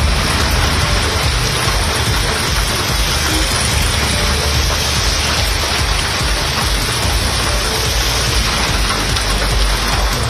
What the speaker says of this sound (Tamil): சென்னை நகர் மற்றும் புறநகர் பகுதிகளில் நேற்று காலை முதல் இரவு வரை கனமழை கொட்டி தீர்த்தது